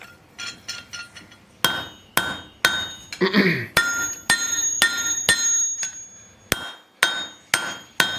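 Hammer blows ring on steel as the gripping tips of blacksmith tongs are drawn out on an anvil. Sharp metallic strikes come in a loose rhythm with bright ringing decay, plus a brief burst of hissing mid-way.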